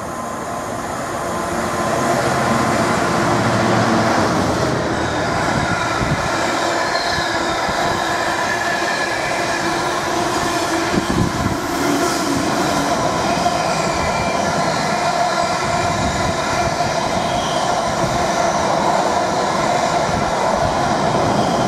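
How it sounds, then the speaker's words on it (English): An 11-coach Class 755 FLIRT train races through Stowmarket station at speed, a loud sustained roar of wheels and rail noise that builds up quickly and then holds steady for about twenty seconds. "the same 11 coach class 755 FLIRT formation we saw earlier has come back through at speed"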